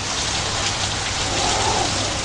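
Steady, heavy rain falls in a dense, even hiss with no pauses or voices.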